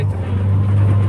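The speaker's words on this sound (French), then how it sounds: "Et voilà des putains de camions qui passent à la place." Trucks and cars pass close by on a road, producing a steady loud low engine rumble and road roar throughout the short stretch.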